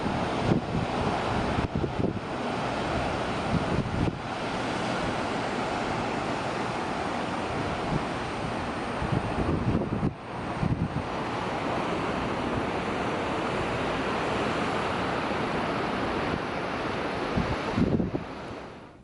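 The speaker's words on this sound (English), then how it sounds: "right here on the beautiful Pacific Ocean" Pacific Ocean surf at Half Moon Bay south of San Francisco beside a seaside golf course, a steady loud roar of breaking waves with heavy wind buffeting the microphone, no voices.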